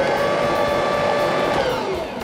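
An electric mixer whirs steadily, beating sour cream and vanilla for snickerdoodle dough, a loud constant motor drone that eases slightly at the end.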